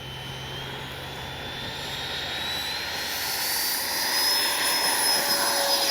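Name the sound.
Freewing F-22 90mm RC jet taking off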